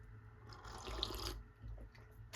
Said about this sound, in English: Sparkling water.